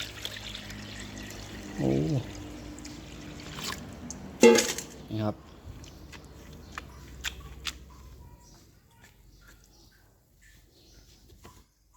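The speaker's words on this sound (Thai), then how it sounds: "ใส่น้ำปลาลงไปเลยด้วยครับบัดนี้ ใส่มันถ่วมเลย" Fish sauce is poured over bamboo shoots in a couple of short splashing pours. A quiet clatter follows, then the sound fades into near silence.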